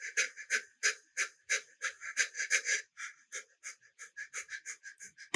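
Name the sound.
heavy breathing foley for a short film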